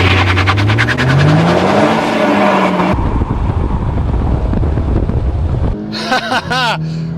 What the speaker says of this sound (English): Four-wheel drive, sprinting off into the lead.